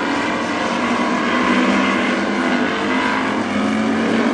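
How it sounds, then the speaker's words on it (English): WISSOTA Street Stock race cars battle side by side out of the fourth corner during a heat race at Princeton Speedway, their engines making a loud, continuous, dense roar with no break. "Battle shaping up side by side out of the 4th corner for that 4th and 5th position as Pagonis continues to stretch things out"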